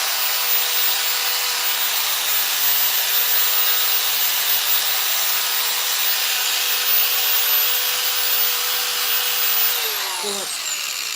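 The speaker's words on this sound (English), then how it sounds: "Little finger sander" Small electric finger sander running steadily on a wood carving of a five-foot largemouth bass, a continuous close, even high whir with a sustained tone that winds down near the end.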